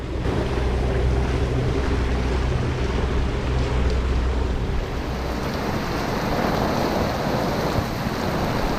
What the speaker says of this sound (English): A little bit of a rain squall just come through.